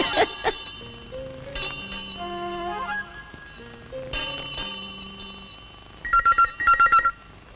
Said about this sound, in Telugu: అబ్బా, ఈ ఫోన్ ఇప్పుడే మొగాలా?